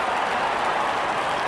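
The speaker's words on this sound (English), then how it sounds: "And there comes the celebration and the crowd loves it." Stadium crowd at an IPL T20 cricket match between SRH and KKR cheering and applauding a celebration, a dense, steady roar of clapping and shouting that fills the whole moment without a break.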